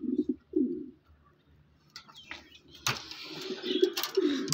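A pair of Swallow breed pigeons coos in short low bursts at close range, with some wing flapping and rustling partway through and more cooing near the end.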